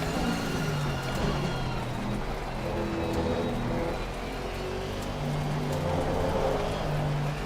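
A GT3 race car engine in Assetto Corsa Competizione drones steadily with shifting pitch as it revs and changes gear, loud and sustained throughout.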